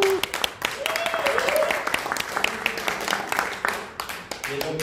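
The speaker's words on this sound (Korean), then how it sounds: "여기 올라왔으면 박수 부탁드립니다" An audience at a political group's launch event claps, scattered and uneven applause mixed with voices and a bit of background music, people talking through it.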